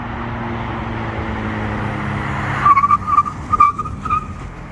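A modded 2019 Mitsubishi Mirage with slotted and drilled rotors and carbon-ceramic pads brakes hard during a brake test, its engine rumble giving way to a loud, wavering tire squeal in several bursts.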